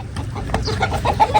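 Hens and a rooster squabbling on a farm give a quick burst of close, agitated clucking with a few sharp squawks, over in a moment.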